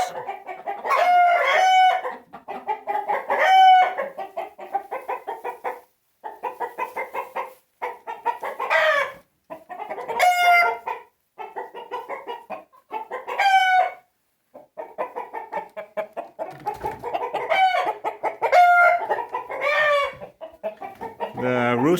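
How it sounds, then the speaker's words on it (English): Roosters crow and hens cluck in a chicken coop, with repeated loud crows and bursts of clucking filling the whole stretch, close and continuous with short pauses between calls. "the roosters decided that they should disturb the recording here."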